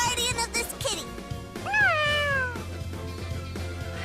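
A cat meows in the video game Tales of Xillia 2, giving one clear rising-then-falling meow that stands out over faint background game music and scattered clicks.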